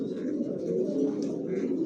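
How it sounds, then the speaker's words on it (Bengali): Pigeons coo steadily and continuously in a pigeon loft where birds of various prices are kept for sale, a dense low murmur of many birds close by with no talking. "এই যে বিভিন্ন প্রাইজের বিভিন্ন দামের কবুতর আছে"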